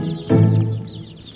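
Chickens clucking and squawking as bird prey in a reptile feeding video, a single loud burst of agitated fowl calls rising abruptly, holding for a moment, then fading under lingering background noise.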